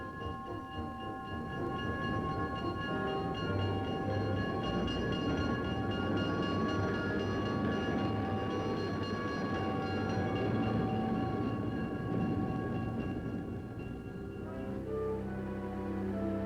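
A train rumbles past steadily for a long stretch in the farm town of Ottumwa, with a loud continuous roar, droning tonal hum and rail clatter that eases slightly near the end.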